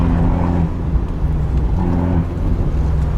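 A 1400 Abarth 124 Spider engine rumbles and revs from inside the moving car, loud and steady with low throaty pulses rising and falling over about three seconds, no voices over it.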